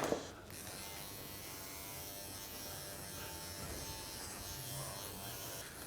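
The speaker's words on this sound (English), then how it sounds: "The clipper wouldn't go through that, which is a good example to show you." An electric dog grooming clipper running steadily on a Cockapoo's coat, a close, even motor buzz with a slight rasp as it moves through the fur, with no talk.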